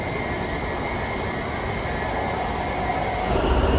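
Washington DC metro train riding, a steady loud rumble of the subway car in motion with broadband rail noise throughout, swelling slightly near the end, no voices.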